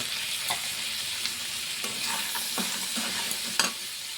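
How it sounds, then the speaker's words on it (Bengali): Crab pieces and chopped tomato frying in oil in a pan for a crab curry, a continuous close sizzle with intermittent scrapes and knocks of a spatula against the pan. "ঠিক এই স্টেজে এখানে আমরা একটা টমেটো দিয়ে দেবো"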